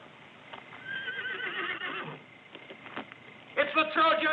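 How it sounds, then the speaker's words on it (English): Horses neighing and whinnying in a 1962 sword-and-sandal film scene, several loud high calls over restless hoof clatter, with a sharper burst of neighs near the end and voices mixed in. "What's wrong with the horses?"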